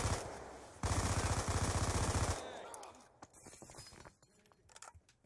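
Rapid automatic gunfire in Black Ops 2 rattles loudly for about two seconds as the player is shot from behind, then cuts off into faint clinks and scattered game noise.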